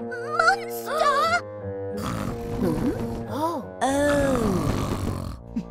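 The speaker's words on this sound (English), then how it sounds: "Just Grandpa Pig snoring." A cartoon grandfather pig snores loudly, voiced by a performer as deep, drawn-out groaning snorts and grunting rumbles that rise and fall in a few long breaths.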